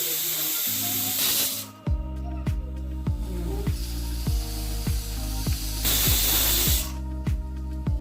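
A pressure cooker on the stove, steaming chopped tender jackfruit in a little water, lets out a loud steady hiss of venting steam. A rapid series of sharp rattling ticks sits under the hiss, with two brighter bursts of spray-like release.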